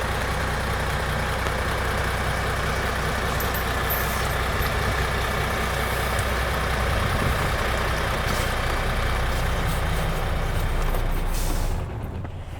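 A heavy diesel tractor engine idles with a steady, deep rumble throughout, loud and close, then cuts off near the end.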